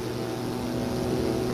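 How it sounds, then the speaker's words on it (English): Rotary engine of a triplane in the World War I flight game Wings Over Flanders Fields, a steady low buzzing drone with a throbbing pulse, moderately quiet and continuous throughout. "So, got a rotary engine"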